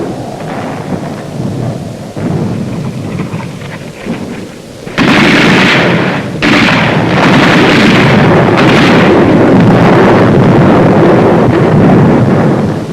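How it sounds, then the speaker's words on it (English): Mortar and artillery explosions in a wartime battle near a mountain, heard as loud, rumbling booms and a sustained roar of blasts, with a sudden louder burst midway and dense low thunder-like noise continuing to the end. "Mortar and artillery were deadly accurate by reason of excellent enemy observation from Mount Lungo"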